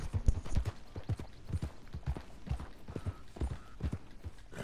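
Horse hooves clip-clopping in a steady galloping rhythm while riding in the Western game Red Dead Redemption 2, close and moderately loud, with faint creaks of tack between the beats and no talk.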